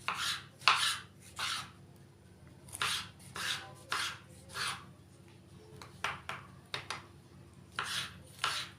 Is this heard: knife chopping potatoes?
yes